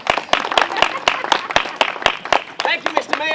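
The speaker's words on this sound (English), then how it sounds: "Please, a round of applause for Mr." A small audience at an outdoor May Day theatre performance claps, sharp individual hand claps spaced in an uneven rhythm, close and moderately loud, with voices cheering and calling out over the applause.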